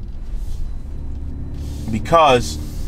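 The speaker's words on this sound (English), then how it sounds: "Throw the car in drive. We're gonna go for a nice little drive." Low, steady engine rumble from a 2020 BMW M340i on a stock tune while driving, with a brief louder swell near the end and a voice talking over it.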